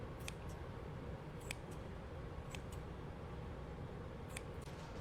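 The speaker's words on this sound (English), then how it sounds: "The easiest way to do this is just with some kitchen scissors," Kitchen scissors snip hot dogs into inch-long pieces, several short crisp cuts at irregular intervals over a constant low background hum.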